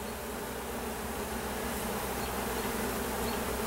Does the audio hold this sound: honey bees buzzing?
yes